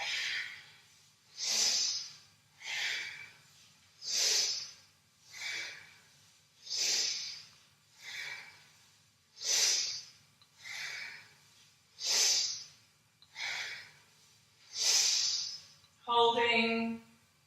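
Yoga breathing in a self-confidence practice: about a dozen deep, airy inhales and exhales close to the microphone, evenly paced every second or so over a quiet low hum, with a short spoken phrase at the end.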